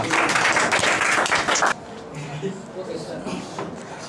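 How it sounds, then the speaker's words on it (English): Students at a school speech program clap for the next speaker, a brief burst of close, dense applause that cuts off sharply and gives way to quieter room sounds and murmuring. "Give a big hand clap for him"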